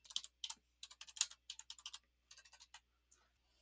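Rapid bursts of clicking keystrokes on a computer keyboard as a phone number is typed, with close, crisp taps in quick clusters and brief pauses between groups.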